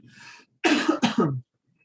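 A burst of coughing, two harsh coughs close together, preceded by a softer throat noise, then quiet.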